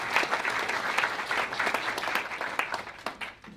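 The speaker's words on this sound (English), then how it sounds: "How about a big round of applause for our platinum sponsors?" Audience at a lunch program applauding the sponsors, steady warm clapping from a roomful of people throughout, fading slightly at the end.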